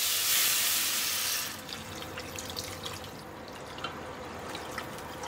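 Liquid broth pours into a pot of Korean rice cake and dumpling soup (tteok-mandu-guk) with beef and black pepper in a brief rushing splash, then soft, faint drips and trickles continue alone in a quiet kitchen.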